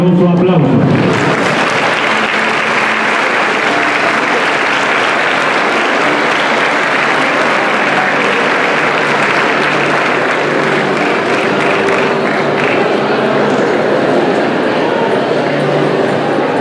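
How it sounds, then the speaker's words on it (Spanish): Loud, sustained applause from a large audience at the opening ceremony of a school zone's third science and entrepreneurship fair, rising sharply at the start and holding a dense, steady roar of clapping throughout. "Los recibimos con un fuerte y caluroso aplauso."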